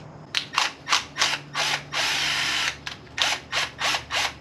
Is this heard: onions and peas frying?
no